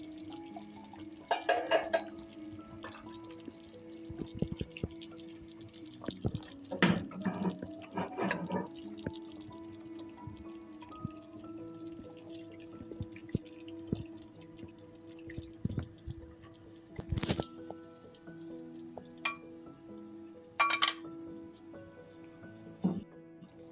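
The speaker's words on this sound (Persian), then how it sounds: "بعد از صافی ردش میکنیم و آب سماق رو به غذا اضافه میکنیم." Sumac water strained and poured into a cooking pot of traditional tareh kabab made with rice flour, quiet scattered drips, splashes and small clinks of utensils against a faint kitchen background, no talk.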